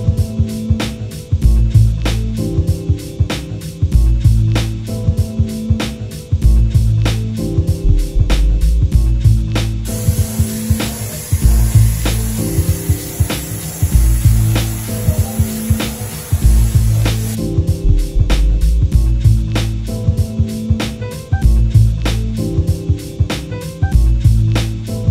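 Aerosol spray paint hisses onto a box of screws and engine parts during a turbo 5.3 LS build, a steady close hiss lasting about seven seconds over rhythmic background music.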